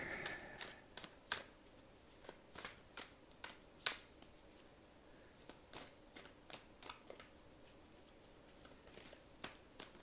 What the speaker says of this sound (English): I'm going to shuffle up a bit more